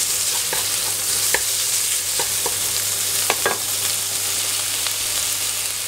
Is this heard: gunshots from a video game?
no